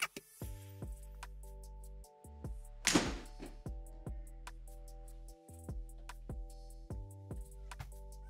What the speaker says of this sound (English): We're gonna go hit a shot.